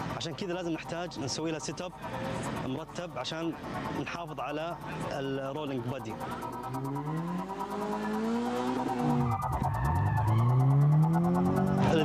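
A modified Subaru BRZ races through a Dakar rally stage, its engine revving and rising in pitch as it accelerates, with tire noise, under continuous talking.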